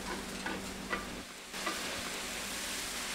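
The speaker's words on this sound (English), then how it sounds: "So whilst John is stirring the risotto, we're just going to chop the asparagus." A mushroom, pea and asparagus risotto with hot stock, rice and onions bubbles softly in a pan under steady stirring, a continuous close hiss marked by a few brief scrapes, with no voices.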